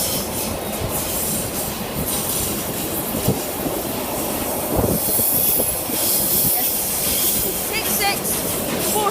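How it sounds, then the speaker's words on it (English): A long Class 66 diesel locomotive train passes on the South Wales Main Line at Newport, with a continuous rumbling roar, rhythmic wheel clatter, hissing and brief high wheel squeals throughout. "There's a class 66 coming through."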